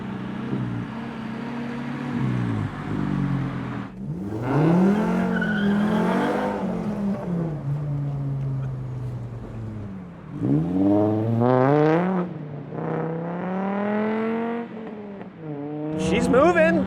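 A car fitted with a swapped VW five-cylinder engine drives along, its rattly engine note rising and falling through several revving pulls as it accelerates, loud and close, with a voice talking over it.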